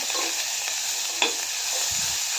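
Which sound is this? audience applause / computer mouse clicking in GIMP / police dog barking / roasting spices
roasting spices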